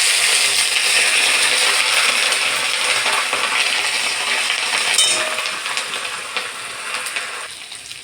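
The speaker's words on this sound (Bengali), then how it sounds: "এবারে আদা বাটাটা দিয়ে দেবো," Ginger paste fries in a pan with dried chilli and five-spice tempering, giving a loud, dense, continuous sizzle that eases slightly toward the end.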